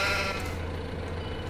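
Sheep and lambs bleat steadily over a low engine-like hum in the Farming Simulator 2015 video game, with one short continuous call.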